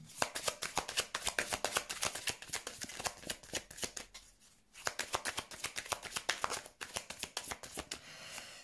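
Tarot cards are shuffled by hand in a rapid run of crisp, close flutters and riffles, pausing briefly midway before resuming the same brisk papery rhythm, with no talking.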